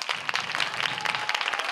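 Brisk, close audience applause at a Women's Day concert after a debut recital, dense irregular clapping that holds steady for a couple of seconds.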